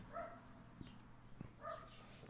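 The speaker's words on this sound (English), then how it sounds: "Apologies for the dog barking." Two short barks from a dog a little way off, spaced about a second and a half apart, over a quiet room hum.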